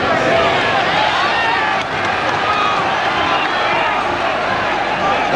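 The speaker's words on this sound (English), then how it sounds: "The crowd rising to that, certainly from the back of the SEC here in Glasgow." Boxing crowd at the SEC in Glasgow during a Chris Eubank fight, rising in a loud, steady roar of cheering and noise that fills the arena throughout.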